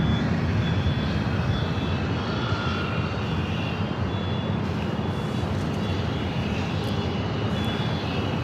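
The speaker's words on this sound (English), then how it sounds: "Virgin A350 now pushing back" Virgin Atlantic Airbus A350-1000 airliner pushing back at LAX, a steady broadband jet engine roar with a faint high whine on top, continuous and fairly close, with no talk.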